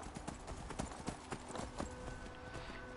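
A horse's hooves clip-clop in Skyrim, a run of sharp, evenly paced hoof strikes over a low ambient game background, close and moderately loud with no talking.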